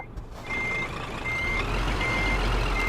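Steady electronic reversing beeps from a truck in Euro Truck Simulator 2, repeating evenly at a moderate volume over a low engine rumble, with no talking.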